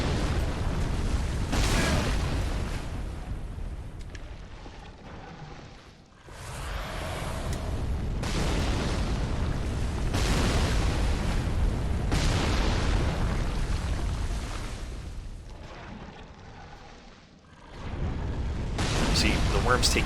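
A giant ballista shot explodes in Dark Souls 3 during a fight with a giant worm. Long, heavy booming blasts rumble across the whole stretch, easing off briefly twice before surging back, with a voice talking now and then.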